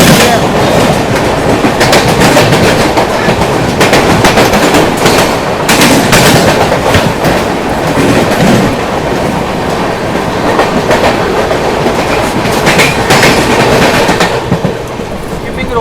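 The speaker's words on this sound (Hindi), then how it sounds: "हावड़ा अमृतसर मेल आती हुई" The Howrah Amritsar Mail rushes past close by at speed, with a loud continuous roar and rapid, repeated clickety-clack from the wheels over rail joints, lasting throughout.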